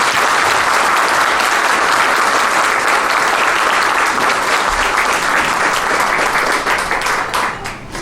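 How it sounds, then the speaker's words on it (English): A large audience at a Chamber of Commerce public safety event applauds the sheriff loudly and continuously, a dense wash of clapping that holds steady before tapering off near the end. "Please round of applause for our sheriff."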